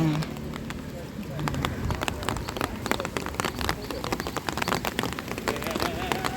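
Steady rain falls on a hillside in Maokong, Taiwan, with a dense hiss of drops and scattered sharper patters on nearby surfaces, while someone talks quietly over it.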